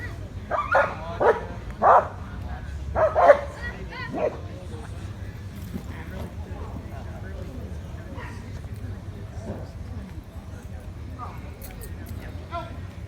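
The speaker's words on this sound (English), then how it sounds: "He's going to be excited. He's going to bark." A police K9 dog barks several times in quick, sharp bursts early on during a Hernando County K9 unit demonstration, then quieter whimpering and yips follow, with people talking nearby throughout.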